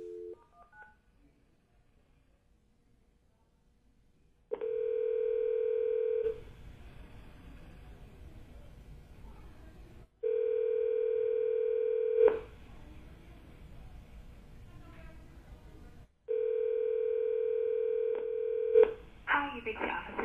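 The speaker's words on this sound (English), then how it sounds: "So we simply dial that number on the phone" A desk telephone gives a burst of keypad dialing tones, then a steady ringback tone repeats in long pulses with quiet gaps between, heard close and clean with no talking.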